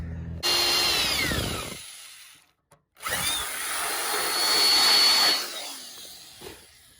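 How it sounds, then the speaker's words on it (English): An electric drill bores a hole through sheet metal on a Nissan S13 widebody build, running in two loud, sustained bursts separated by a short pause, with the motor pitch shifting as the bit cuts. "drill that real quick"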